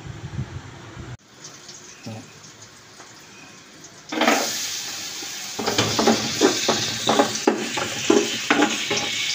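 Garlic and onion sizzle in hot oil in a pan for duck kaldereta, starting quiet and then rising into a loud, steady frying hiss with scattered crackles and stirring scrapes.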